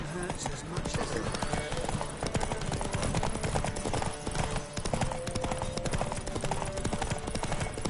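Horses gallop in a Witcher 3 race, with rapid, dense hoofbeats pounding steadily and loudly throughout under a bed of game music and ambience, while voices call out over the running.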